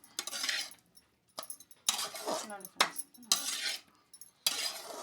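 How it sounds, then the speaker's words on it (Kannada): A metal spoon scrapes and clinks against a pot while raw mango chitranna rice is mixed, coming in several short bursts separated by pauses, with someone speaking briefly between strokes. "ನೀಟಾಗಿ ಮಿಕ್ಸ್ ಮಾಡ್ತೀನಿ ಫ್ರೆಂಡ್ಸ್"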